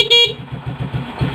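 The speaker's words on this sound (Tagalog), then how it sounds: "Check nyo na rin yung busina," A motorcycle horn honks once briefly at the start during a warm-up check, followed by the low, rhythmic putter of the idling engine close by.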